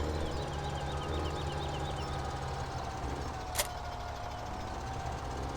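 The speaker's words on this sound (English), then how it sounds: "I'll turn it around with the tractor." Tractor engine in the video game Farming Simulator 17 idling in a low, steady rumble, moderately faint and continuous, with no talk over it.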